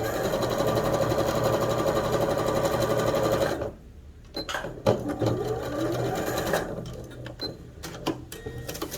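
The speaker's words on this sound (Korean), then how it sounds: "뒤집어서 주머니 선 따라 박음질을 해주겠습니다." A sewing machine stitching along a pocket line on jogger trousers, a loud rapid mechanical whir that runs steadily, cuts out, then resumes in shorter bursts with small pauses, close and without speech.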